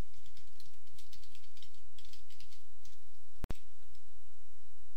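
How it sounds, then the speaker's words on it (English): Typing a text response into an online form on a computer keyboard gives light, soft key taps in an irregular run over a steady background hum, with one sharp click partway through. "I can type in a text response."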